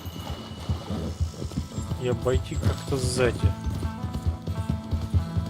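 Horse hooves clip-clop steadily in a game-like scene in the video game Red Dead Redemption 2 while someone talks over them, with a brief whinny partway through.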